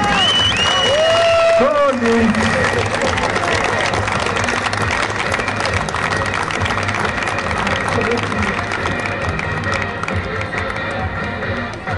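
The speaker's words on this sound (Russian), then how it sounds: "Хлопаем, аплодируем." Spectators at an award ceremony on the field after a football cup match clap in loud, continuous applause with crowd noise and scattered cheers, and a few high whistling tones at the start.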